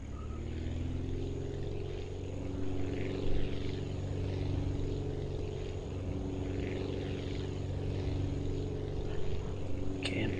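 A propeller aircraft engine at full throttle in the flight-building game Aviassembly, a steady loud droning buzz with a constant low hum that holds evenly throughout, no talking.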